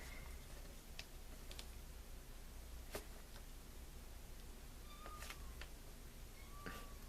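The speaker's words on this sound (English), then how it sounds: "my cat is crying at me, 'cause she wants in the craft room" A house cat cries to be let into a craft room, giving a few faint, brief meows against a quiet room with light tapping and clicking sounds.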